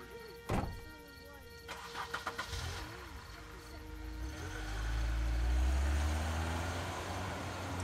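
A car engine in The Walking Dead video game cranks and starts, then revs and rumbles as the car pulls away, low and steady, with brief voices and clatter in the scene early on.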